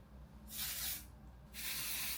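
Two bursts of sunscreen aerosol sprayed onto a neck, each about half a second of close, bright hissing separated by a short pause, with no talking.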